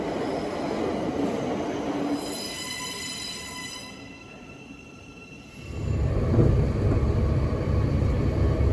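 Passenger train running on the line near Letchworth, a steady rolling rumble from inside the carriage with a high whine building and fading, a quieter lull, then a louder, deeper roar of wheels on track.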